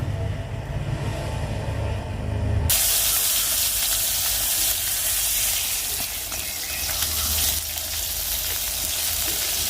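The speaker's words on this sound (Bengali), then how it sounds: "তো এই যে আমি মাছটা ভাজতে দিছি" Fish frying in hot oil, a loud, steady hiss that bursts on abruptly after a quiet start and continues close and unbroken to the end.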